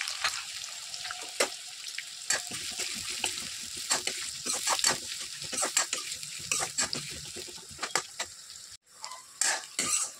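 Steady sizzling of onion and potato frying in hot oil in a wok, broken by frequent scraping and clinking of a utensil stirring the pan.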